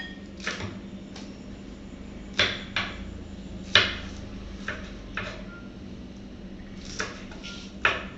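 A knife cuts spring onions thinly on a board, giving sharp, separate chops at an uneven pace over a low steady hum, close and fairly quiet, with no talk.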